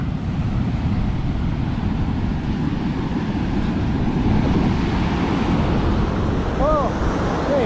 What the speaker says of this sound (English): those waves are very big